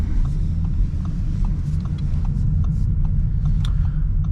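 A 2024 Audi S5 Sportback Premium Plus with its 3.0-liter turbocharged engine drives along, heard from inside as a steady low rumble of engine and road noise with faint ticks above.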